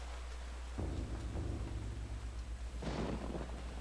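Rain and rolling thunder in the video game Eternal Darkness: Sanity's Requiem, a low rumble breaking in after a near-silent moment, then a second louder crash near the end.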